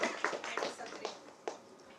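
Scattered applause from an audience at a Gujarati stage show, a few quick claps and taps near and fairly faint, thinning out over two seconds with no voices.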